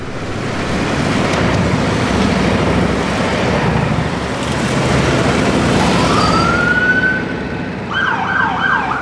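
A broad rushing roar of passing traffic fills the clip, and wailing police sirens from a procession between Cameron and Chetek rise and sweep up and down toward the end.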